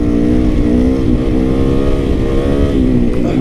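A supermoto dirt bike converted for street use revs hard during a wheelie, its loud, close engine note rising and falling in quick waves throughout, with no talking.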